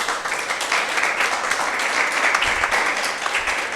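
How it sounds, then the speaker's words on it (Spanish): A church congregation applauds during a worship service, a dense, even wash of many hands clapping that holds steady at close range for several seconds. "Dale un aplauso a Jesús."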